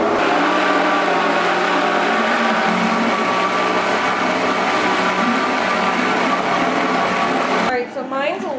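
A blender whirring steadily at high speed through pumpkin pie filling for maple bourbon pumpkin pie, a loud continuous motor drone that cuts off near the end.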